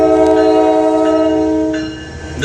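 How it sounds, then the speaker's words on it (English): A train passes close by with a loud, sustained horn chord that holds steady, then dips and swells back near the end, over a low rumble of rolling wagons. "There goes the train"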